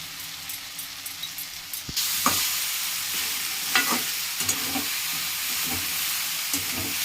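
Spring onion and diced potato fry over a medium flame, a steady close sizzle and hiss with occasional stirring scrapes, the frying growing louder after the first couple of seconds.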